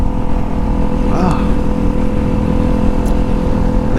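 A Kawasaki Ninja 400 motorcycle engine drones steadily and loudly while riding, mixed with heavy wind rush at the microphone.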